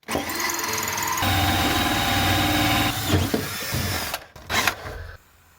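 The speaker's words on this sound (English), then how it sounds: "So I'm just going to drill into this and get rid of the wooden plug." A power drill with a hole cutter whines steadily as it bores into a wooden plug on a small boat, then slows and stops with a few clunks and scrapes near the end.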